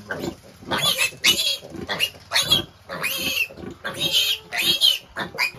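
Piglets squeal, grunt and oink in a busy, continuous chorus while suckling from their lactating sow on a pig farm, loud and close.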